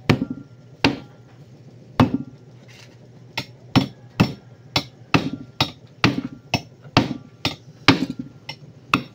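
A bearing being hammered into an electric fan: sharp metallic strikes, about twenty of them, landing one after another at an uneven pace, loud and close with no talk.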